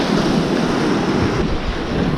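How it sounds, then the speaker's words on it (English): Strong, steady wind gusts roar across the microphone on a bass-fishing shore with the wash of surf behind it, loud and continuous throughout. "You've got the gusts of wind coming."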